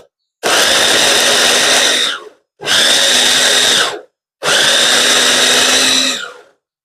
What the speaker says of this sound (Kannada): ಯಾರು ಈರುಳ್ಳಿ ಕಟ್ ಮಾಡ್ಕೊಂಡು ಕುತ್ಕೊಂತಾರೆ ಅಂತ ಹೇಳಿ ಹೊಸದು ಚಾಪರ್ ತರಿಸಿದೆ